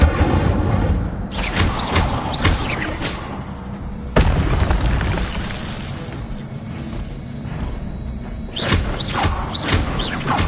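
Incendio fire spells cast in Hogwarts Legacy, heavy booming explosions in clustered bursts separated by rumbling stretches, loud and close, with sharp cracks among the blasts.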